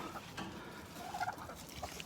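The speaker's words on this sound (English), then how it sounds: "Turkeys are so much fun." Backyard turkeys kept with chickens gobble faintly in a short burst of rough, warbling calls over steady outdoor noise, with no talking.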